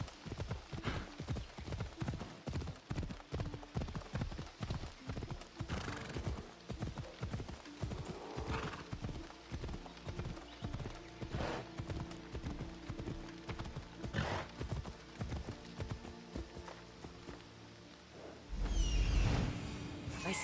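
A horse gallops in Assassin's Creed Odyssey, its hooves pounding in a quick, steady clip-clop rhythm close by, with a whoosh and a louder burst near the end.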